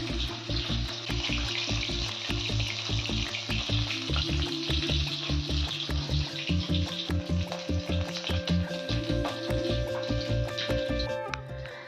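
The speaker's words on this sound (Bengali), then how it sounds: "তারপর সেই গরম তেলের মধ্যে একটু কালো জিরে ছিটিয়ে নিলাম" Nigella seeds and chopped garlic hit hot oil in a pan while making a spicy tangra fish curry, producing a loud, continuous close sizzle with crackling pops, plus some running-water and clattering kitchen sounds underneath.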